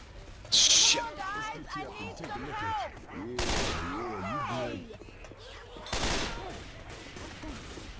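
Bursts of gunfire from Left 4 Dead 2 friendly fire, with short loud volleys near the start and end, heard amid a co-op player talking throughout.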